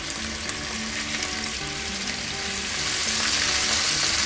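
Steak frying in a pan and pressed down to brown, a loud steady close sizzle that swells slightly toward the end, no talk.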